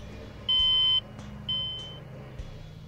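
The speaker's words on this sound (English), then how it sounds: "the operator is alerted by the audible alarms" Audible alarms sound in a power network control room: a half-second steady beep followed by a second shorter tone that fades, over a low background hum.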